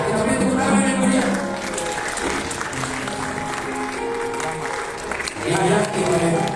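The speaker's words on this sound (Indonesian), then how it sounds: "Ya, kita beri tepuk tangan yang meriah." A wedding congregation at a holy matrimony church service claps warmly in sustained, fairly close applause, with a voice speaking over it.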